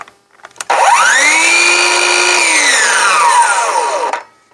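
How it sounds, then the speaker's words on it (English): A Ryobi 18V 7 1/4 inch cordless circular saw spins up and runs steadily for about three seconds with a loud, rising whine, then winds down. The high tone sits well above its motor hum, and there is no talk. "see if you can hear any difference with our 7 1/4 inch circular saw"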